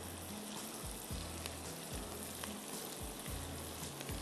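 Ginger and garlic fry in a pan, with a continuous close hiss and sizzle running throughout and regular low scraping strokes as they are stirred.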